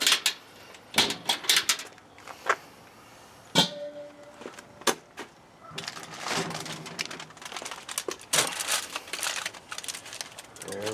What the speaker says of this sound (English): Alright, we got the ribs wrapped up in the foil.